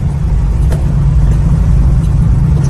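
A muscle car's engine runs steadily while driving, a loud, continuous low rumble close by with no talking over it.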